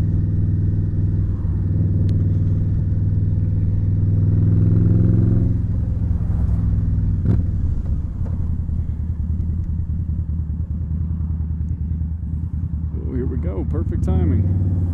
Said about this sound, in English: I've always wanted to ride up this road on the bike.